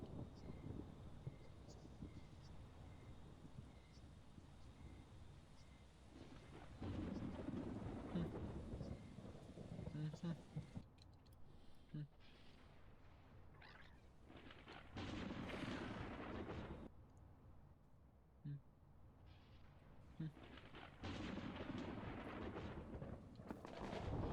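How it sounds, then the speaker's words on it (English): Rolling thunder with steady rain in the Creatures of Sonaria game, several deep booming swells rising and fading across the stretch, fairly faint overall, with no talking over it. "Here we are in a thunderstorm."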